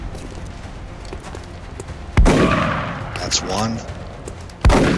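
Gunfire from a rapid-fire shot in the video game X-COM: Enemy Within gives two sharp, loud bursts about two and a half seconds apart, each one trailing off, with someone talking between the bursts.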